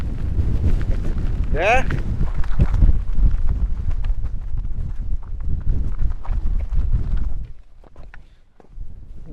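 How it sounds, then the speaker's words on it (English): Strong, blustery wind roars across open moorland, buffeting the microphone in heavy gusts. A short whistle or whoop sounds near the start, and a brief word is spoken. The gust eases suddenly near the end. "It is blustery out there, and that's the headwind that I now have to descend into"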